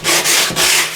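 Dry floated wall being sanded by hand with 100 grit sandpaper, a loud, close abrasive rasp in two or three long back-and-forth strokes with brief dips between them.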